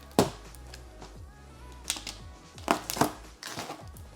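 A cardboard packaging box for an Aiper Seagull pool cleaner is cut open at close range, with sharp crunching slashes and tearing at uneven intervals and quieter rustling between them.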